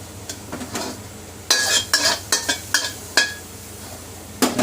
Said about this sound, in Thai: ก็เริ่มด้วยการใส่พริกใส่กระเทียมนะครับ